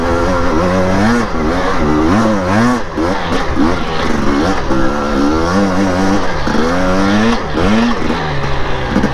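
A Husqvarna TE250i dirt bike engine climbs uphill, loud and close, its two-stroke note rising and falling steadily with throttle changes.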